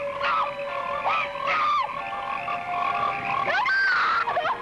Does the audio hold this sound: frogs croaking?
yes